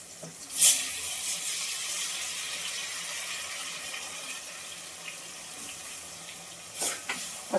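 Water runs steadily from a tap as a mixer jar holding masala is rinsed. The gentle hiss goes on without a break, with a clatter at the start and a few knocks near the end.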